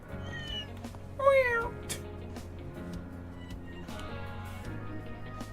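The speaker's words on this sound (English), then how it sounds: "Is that a cat?" A cat meows in the video game Trails Through Daybreak II, one clear rising-falling meow, with fainter mewing before it, over quiet game background sounds.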